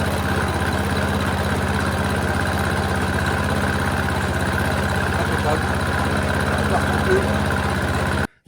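A Briggs & Stratton lawnmower engine idling steadily after being restored, a close, even mechanical chug that runs unbroken until it cuts off abruptly at the very end.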